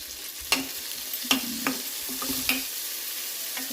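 Spices and aromatics fry in a pan on a home stove with a constant hiss of sizzling oil, broken by a few sharp scrapes and clinks as a utensil stirs the pan. No voices.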